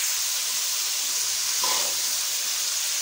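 Onions soften in a pan for prawn do pyaza, a steady even hiss of gentle cooking heard close up, with a faint swell partway through and no talk.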